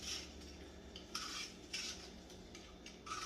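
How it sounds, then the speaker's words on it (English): Apples are peeled and sliced thin with a peeler, producing quiet, close scraping strokes that repeat in short, fairly regular bursts. "just slice straight down them like this. See that? Real thin."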